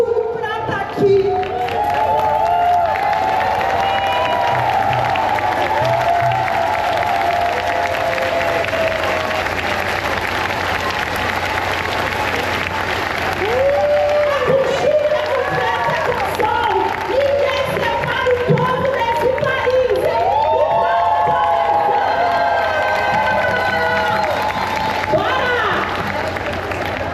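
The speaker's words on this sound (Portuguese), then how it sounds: "Eu queria só que a gente levantasse e batesse muitas palmas para as meninas do Mato Grosso do Sul" A large audience at the opening of a national meeting of culture committees claps and cheers steadily, a dense roar of applause with voices and shouts mixed in, sustained for the whole stretch.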